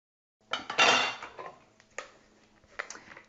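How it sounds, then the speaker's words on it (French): A bar of soap is grated in short scraping bursts, each a second or less, separated by brief pauses, close and with no talk. "On commence par râper le savon."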